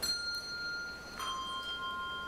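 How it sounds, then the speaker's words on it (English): Two clear bell strikes, one at the start and another about a second later, each ringing out with a long bright sustain in a quiet room. "ring 2 bells for peace."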